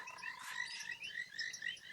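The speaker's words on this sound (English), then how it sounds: "I love coming and sitting and listening to the frogs calling like this." Frogs calling at dusk in a rain-puddled African safari setting, a steady chorus of high, repeated chirping croaks close by with no talking.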